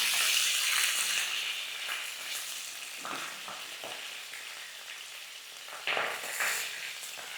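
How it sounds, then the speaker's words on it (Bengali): Cauliflower florets frying in a pan with a little black pepper, a steady close sizzle with occasional stirring bursts and no talk. "এবার এটাকে ভাজতে হবে, ফুলকপিটাকে লাল লাল করে ভাজতে হবে।"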